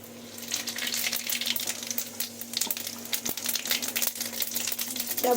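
Dried red chillies and bay leaves fry in hot oil in a home kitchen pan, giving a soft, continuous crackling sizzle with scattered pops and a low steady hum underneath.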